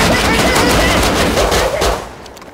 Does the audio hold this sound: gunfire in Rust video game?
yes